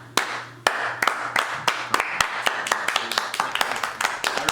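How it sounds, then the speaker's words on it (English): Slow claps from one or a few people, about a dozen sharp hand claps at a steady, unhurried pace, close and distinct. "slow clap for Donnie Darko."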